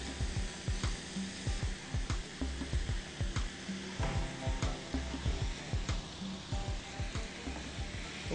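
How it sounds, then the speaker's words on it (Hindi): Prawns and fish pieces frying together in a pan, a continuous loud sizzle broken by rhythmic crackling pulses, like stirring or turning in the hot oil. "प्रॉन्स अपने पैन में डाल दें इस तरह, और फिर मछली के पीस के 3-3 पीस करके इसमें डाल दें, सबको एक साथ।"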